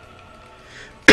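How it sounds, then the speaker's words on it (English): A bad cough bursts out loudly near the end, a single harsh close-up burst following a quiet stretch of League of Legends game sounds. "God, this cough is so bad."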